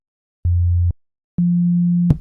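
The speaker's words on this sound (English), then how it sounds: "We get our sine wave back." Pure synthesizer sine tones built with phase modulation in Serum or Bitwig Grid: a short low steady tone, a pause, then a longer slightly higher steady tone ending in a brief click, clean and alone.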